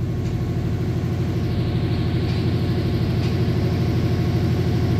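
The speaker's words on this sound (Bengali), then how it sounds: "আজকে কিন্তু আমাদের আমেরিকান জায়ান্ট বিস্ট লোকোমোটিভ কিন্তু রয়েছে 6600 সিরিজের লোকোমোটিভ, আর যার লোকোমোটিভ নাম্বার 6632" A diesel locomotive of the American 6600 series, number 6632, runs at night with a loud, steady low rumble and throbbing engine drone that holds unbroken throughout, close by and with no voices.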